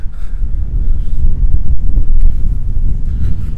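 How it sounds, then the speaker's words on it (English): Steady low buffeting of wind striking a microphone outdoors, loud and continuous with gusting surges throughout, no voices. "all that wind's in my face"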